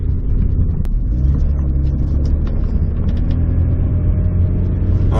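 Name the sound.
Saturn car driving on the open road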